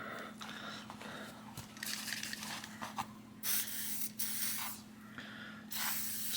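Tri-Flow lubricant is sprayed from an aerosol can onto a stiff bicycle rear derailleur mounting pivot in several short hissing bursts, close and clear, separated by brief pauses.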